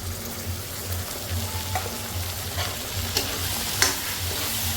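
Goat meat with poured-in spices frying in a pan, a steady sizzle with a low bubbling under it, broken by several sharp scrapes and clinks of a stirring spoon, close and moderately quiet.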